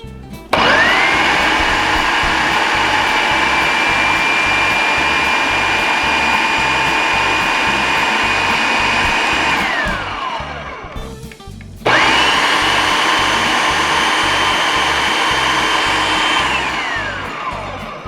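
Kitchen blender whirring through homemade salsa at high speed, a loud steady motor whine that winds down near ten seconds, pauses briefly, then starts up again and keeps running.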